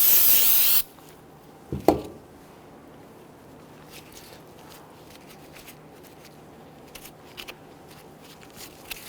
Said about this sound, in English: Go ahead and do one spray last cleaning here.